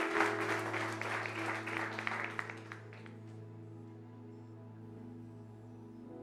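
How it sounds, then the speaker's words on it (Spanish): Church congregation applause, fairly loud at first, thins out and fades after about three seconds, leaving a low sustained hum. "Dele un aplauso bien fuerte."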